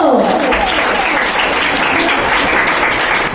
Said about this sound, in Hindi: आपकी भरपूर तालियों में बिलावल भुट्टो को